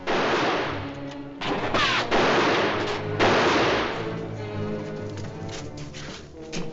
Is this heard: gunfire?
yes